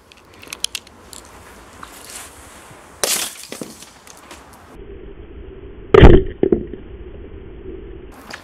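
An Airsoft Innovations Cyclone airsoft grenade goes off on a second test, with a sharp burst around the midpoint, a louder crack later followed by a brief whirring tone, and scattered small clicks and pops.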